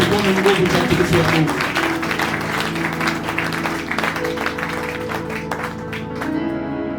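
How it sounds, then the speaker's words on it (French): A church congregation at a Pentecost service claps loudly and steadily, with sustained organ-like musical tones and voices underneath that fade toward the end. "Acclame très fort pour la gloire de Dieu."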